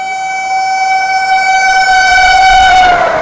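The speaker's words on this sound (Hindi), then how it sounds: "भाई साहब वाराणसी आगरा वंदे भारत को हमारे से आगे क्रॉस करवाया गया है" A white and blue Vande Bharat express train on the Varanasi–Agra line passes close by, its horn blaring as a steady multi-tone blast that grows slightly louder over a few seconds.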